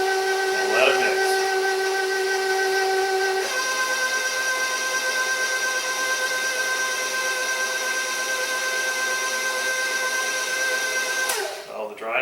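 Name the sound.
stand mixer mixing dry ingredients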